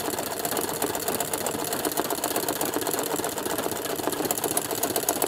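A pedal-driven sewing machine running steadily, its fast, even mechanical chatter of needle strokes continuous and close throughout, with no voices.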